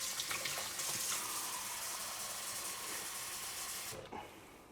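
Warm water runs from a tap into a measuring cup, a steady close hissing splash that shifts in tone as the cup fills, then cuts off near the end, with no talk.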